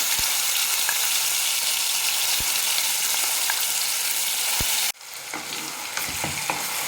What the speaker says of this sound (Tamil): அரைச்சி வச்சுருக்கிற பேஸ்ட்டை அந்த எண்ணெயில் சேர்த்துக்கலாம்